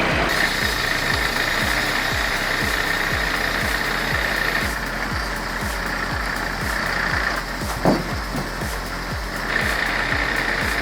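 A logging truck with a 480 engine works hard hauling massive logs out of the woods, its rapid, heavy knocking pulses steady and loud throughout, with a brief sharper clank partway through.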